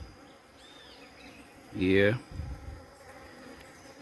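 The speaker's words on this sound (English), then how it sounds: "Look at that bee, how it's drilling down inside it." A bee feeding on a pollen patty buzzes briefly close by, a short loud drone against quiet outdoor background, followed by a brief murmured voice.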